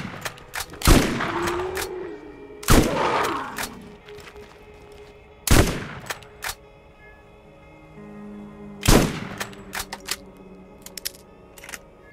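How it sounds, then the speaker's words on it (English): TK's Wave shotgun in Borderlands, each blast firing 11 ricocheting rounds: four loud, separate booming shots spaced a few seconds apart, each with a ringing tail, between quieter clicks and handling noises. "TK's Wave is a shotgun, fires 11 rounds at once"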